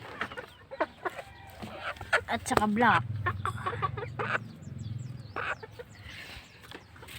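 Backyard chickens, including a rooster, clucking close by in short bursts while someone talks over them, with scattered softer clucks continuing as his voice pauses.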